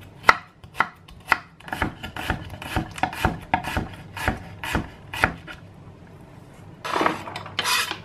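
A knife chops onion and garlic on a board in about a dozen crisp, evenly spaced strikes at close range, followed by a brief rasping scrape as the pieces are gathered.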